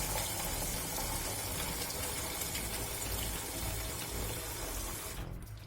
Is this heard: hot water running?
yes